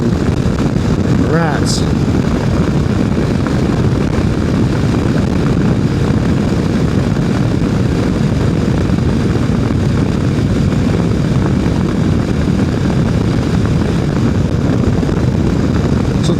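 A Kawasaki KLR motorcycle rides along on the road, its engine drone and rushing wind forming a loud, unbroken roar close to the rider, with a brief spoken word over it.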